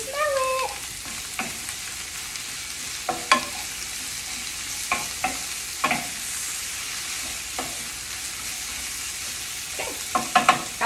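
Peppers and onions frying in a pan for spicy chicken fajitas, with a soft sizzle under repeated scraping stirs and occasional sharper knocks of the utensil against the pan.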